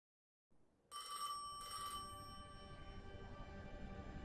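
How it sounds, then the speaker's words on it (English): An eerie ringing in the Destiny 2 video game begins abruptly after a short silence. A bright, bell-like tone sustains with a lingering hum beneath it and fades only slightly, with no talking. "I felt the ringing more than I heard it."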